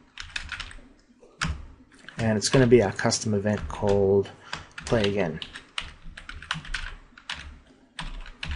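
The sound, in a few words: typing code on a computer keyboard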